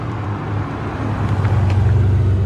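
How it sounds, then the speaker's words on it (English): A Nissan Skyline R34 with an RB25 engine and a heavy-duty clutch pulls away, its steady low engine rumble swelling louder toward the end, with no talk over it. "she takes off with that heavy duty clutch, no worries at all"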